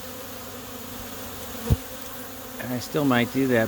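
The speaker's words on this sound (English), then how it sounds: "there are a ton of bees here. I think it's just because we're having orientation flights" Honey bees swarming around a Portland, Oregon hive during orientation flights, a steady faint buzzing hum throughout, with a thump partway and a person speaking near the end.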